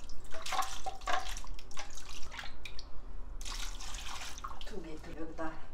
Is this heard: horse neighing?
no